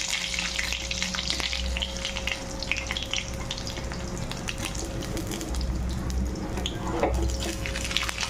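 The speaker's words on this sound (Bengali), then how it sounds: "বড়াগুলোকে আমি খুব ভালোভাবে ভেজে নেব" Gram-flour fritters fry in oil, a soft, steady crackling sizzle with small pops, close but fairly quiet, continuing evenly throughout with a faint background hum.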